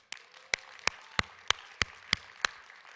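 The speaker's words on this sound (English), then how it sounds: "So another big round of applause" Sparse, evenly spaced claps, about eight sharp hand claps at a steady beat, fairly faint in a church service setting, like a small group starting a round of applause.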